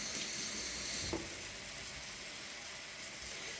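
Tap water pours steadily into a kitchen sink, rinsing food for a chicken and bacon casserole, a close, even hiss with no talk.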